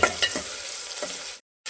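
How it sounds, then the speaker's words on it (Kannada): Onions sizzle and crackle in a hot pan for sambar, with a few stirring scrapes, close and loud, cut off by a brief silence before the frying resumes. "ಸ್ವಲ್ಪ ಈರುಳ್ಳಿ ವಾಸನೆ ನೋಡಿ, ಚೆನ್ನಾಗಿ ಫ್ರೈ ಆಗ್ತಾಯಿದೆ"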